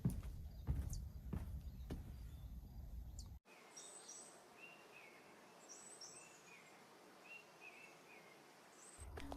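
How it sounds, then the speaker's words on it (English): Birds chirp and trill in short, scattered calls over a soft, steady wash of distant surf, with some louder rustling near the start. "There's only the sound of birds and the ocean"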